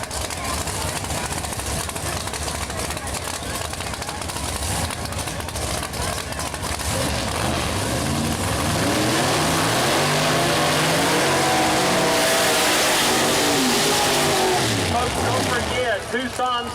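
Pro Mod door-slammer drag cars launching down the eighth mile at Mooresville Dragway, a loud roaring engine that builds and climbs in pitch, sustained and near, under a track announcer's voice.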